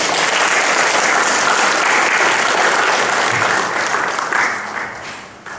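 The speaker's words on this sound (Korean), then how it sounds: "우리 목사님 나오실 때 우리 환영의 박수로 맞아주시기 바랍니다." A church congregation at a Bible conference claps in welcome for the pastor, a loud, full, continuous wave of applause that holds steady and then begins to thin and fade toward the end.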